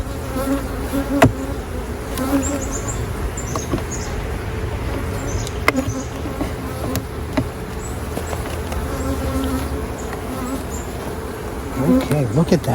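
Russian honey bees swarm around an open hive during a July honey harvest, producing a steady, dense buzzing drone throughout with occasional louder passes of individual bees close by, and no speech.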